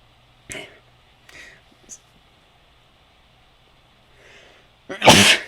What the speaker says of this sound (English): Remember to cut out those sneezes.